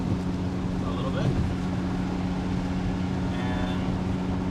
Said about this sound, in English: so you can hear the exhaust